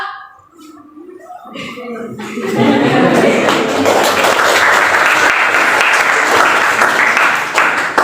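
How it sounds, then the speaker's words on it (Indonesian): Students in a classroom talk briefly, then break into loud, continuous group hand clapping that fills the room for several seconds. "Tepuk tangan satu, tepuk tangan dua, tepuk dua."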